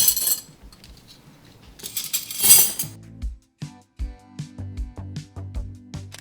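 Silverware clinking as it is dropped into a wicker wine caddy: a series of close metallic clinks and rattles, some bright and jangly, others softer knocks, coming in irregular bursts with no talk.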